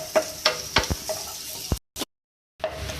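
Vegetables for a samosa filling fry in a pan, a near crackle and sizzle broken by sharp stirring clanks, with brief gaps of silence.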